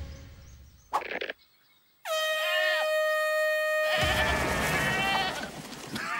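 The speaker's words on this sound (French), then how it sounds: "méfiez-vous des chèvres volantes cracheuses de feu" Cartoon goats bleating: after a short burst and a brief silence, a long, loud, wavering bleat cuts in, then blends into a busier, noisier stretch that carries to the end.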